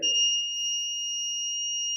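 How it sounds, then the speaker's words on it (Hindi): Piezo buzzer on an Arduino flame-sensor fire detection system, triggered by a lit match: one continuous high electronic tone held steadily, close and clear, right after a short burst of speech. "बजर भी बज रहा है"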